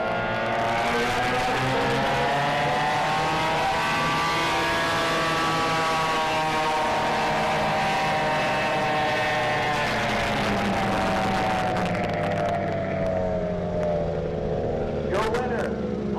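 Racing boats roaring off the start of an 800-foot run at a Thunder on Tholocco water race, engine whine rising and sweeping in pitch as they accelerate, with an announcer talking over the loud drone.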